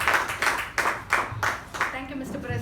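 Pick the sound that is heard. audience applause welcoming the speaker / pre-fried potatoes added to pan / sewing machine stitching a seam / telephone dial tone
audience applause welcoming the speaker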